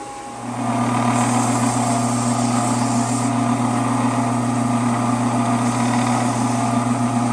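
A jewelry tumbler spins cast silver and gold pieces with small steel needles, giving a steady, loud mechanical whir with a constant motor hum that starts up at once and runs evenly throughout.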